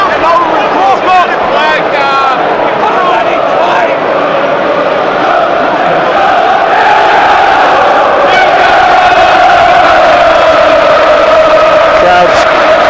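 A packed Premier League football stadium crowd at a Newcastle United versus Fulham match roars in sustained anger at the referee, a dense continuous wall of jeering and bellowing voices that swells slightly toward the end.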